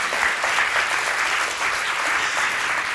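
A concert audience in a Polish radio studio applauds loudly, producing a thick, sustained roar of many hands clapping that stays even and unbroken for three seconds.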